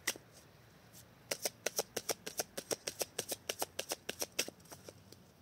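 Tarot cards are cut and riffle-shuffled close by, with a few scattered snaps and then a rapid, even run of crisp card flicks, with no talking over it.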